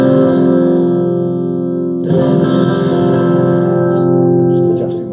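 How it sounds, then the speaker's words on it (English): Electric guitar played through a Boss DM-2w analog delay pedal, sustained chords ringing with repeating echoes and a distorted, reverberant tail, fairly loud and continuous with a fresh strum midway. "That's the echo."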